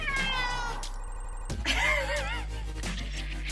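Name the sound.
cat meowing for attention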